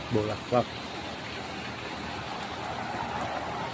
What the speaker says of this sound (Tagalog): ulan na morning talaga dito sa amin.